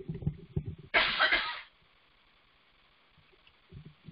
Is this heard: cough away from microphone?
yes